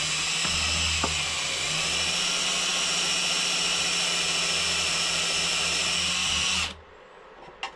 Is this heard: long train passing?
no